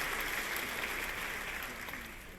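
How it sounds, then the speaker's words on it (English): A faculty convocation audience applauds young students, a faint, dense patter of many hands clapping that tapers slightly toward the end. "let's just give our young students a round of applause"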